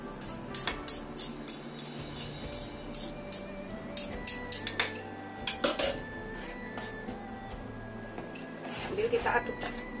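A utensil stirs a dough mixture of milk and instant yeast in a bowl, with clinking and scraping strokes against the dish in an uneven rhythm, close by, while someone talks throughout.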